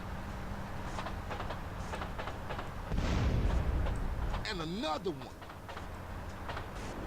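A train in the video game GTA San Andreas rumbles past with a loud surge of rolling noise midway, followed by a squealing, wavering tone, while people talk over the game audio.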